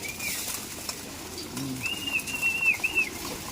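Pigeons coo softly in a couple of low, rolling phrases, with a high bird call over steady outdoor background noise.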